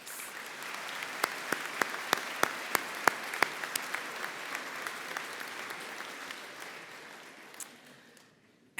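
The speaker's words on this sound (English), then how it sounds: "Let's give all of those students a round of applause." Audience at the Central Lakes College commencement ceremony in Brainerd applauding graduating students, a steady crowd clap with one person's louder, regular claps standing out near the front, gradually fading toward the end.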